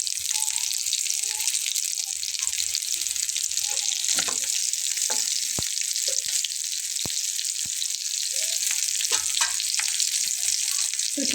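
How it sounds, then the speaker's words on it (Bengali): An egg-coated bun paratha fries in a pan with a steady, close hiss of sizzling oil, punctuated by a few sharp clicks and scrapes of stirring. "দারুণভাবে এটা ফ্রাই হয়ে যাবে"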